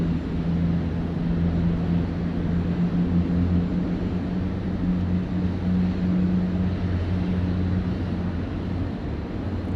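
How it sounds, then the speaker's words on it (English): Qantas airliner engine start at Sydney Airport, a steady, loud low rumble with droning tones that holds evenly throughout with no talk. "we'll enjoy the Qantas 11 engine start."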